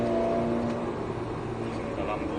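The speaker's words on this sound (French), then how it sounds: "pas besoin de freiner et on continue d'accélérer au contraire" An Alpine A110S accelerates around the Grand Circuit du Roussillon, its engine humming steadily from inside the cabin while a person talks over it.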